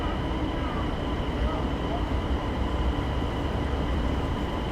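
A high-speed train runs on the railway in Hainan, China, near Haikou East station. It makes a steady, loud rumble with an even hum that continues unbroken throughout.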